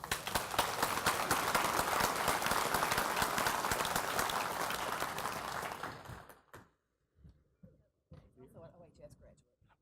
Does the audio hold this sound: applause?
yes